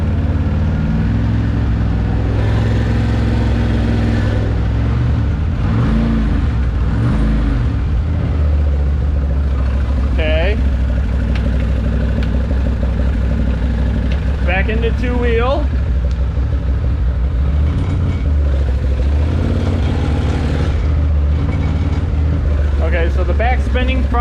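Can-Am Maverick side-by-side engine running steadily in 4-wheel drive, a loud continuous low rumble throughout with some revving, while people talk over it.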